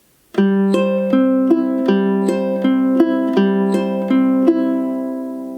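Steady ukulele strumming at song tempo, chords changing on a regular beat, bright plucked strings repeating evenly throughout with ringing sustain.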